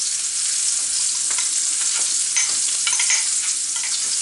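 Rice noodles stirred and mixed with marinade and shrimp for a noodle salad, a steady close hiss of wet tossing with soft scraping strokes, no talking.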